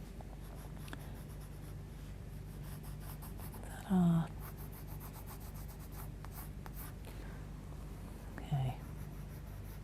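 Graphitint pencil scratching and rubbing across paper as small dots and textured marks go in, a soft, continuous close-up rasp with a couple of brief louder bumps and a short spoken word.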